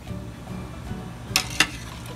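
Whole potato gnocchi tipped into a large pot of nearly boiling salted water flavored with bay leaf: two quick splashy clatters land close together over a low kitchen hum, with no talking.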